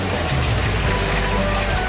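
Steady rain pours outdoors, a dense, even hiss of drops on surfaces, loud and close for the whole moment with no voices.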